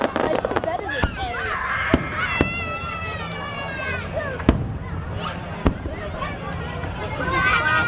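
Fourth of July fireworks burst in Groton, Connecticut, sharp cracks and booms popping at irregular intervals with whistling, crackling trails, heard among an outdoor family crowd with children's voices and chatter.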